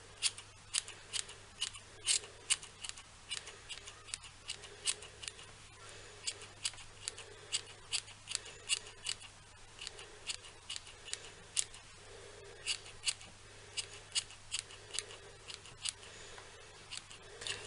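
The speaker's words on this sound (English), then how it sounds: "trim any bits you need to trim just to make it a proper circle" Scissors snip around a fluffy yarn pom-pom for a crochet hat, with quick irregular clicks of the blades, near and crisp, in short bursts over a quiet background with no speech.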